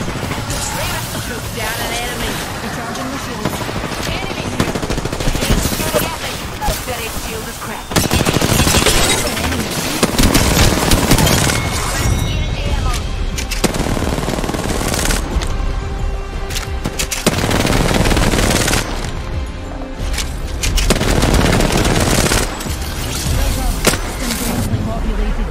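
Sustained in-game gunfire in Apex Legends, dense loud bursts and automatic fire running almost continuously with short lulls, layered over other battle-royale game sounds.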